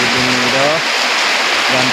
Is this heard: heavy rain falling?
yes